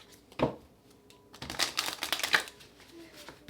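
Tarot cards shuffled by hand, a soft riffle burst near the start, then a longer run of dense papery flutters and slaps, close and fairly quiet, with a faint voice in the background.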